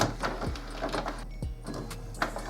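An HP Envy 5530 printer runs a printhead cleaning cycle, with whirring motors, mechanical clunks and sliding carriage sounds that repeat irregularly at close range over a low hum.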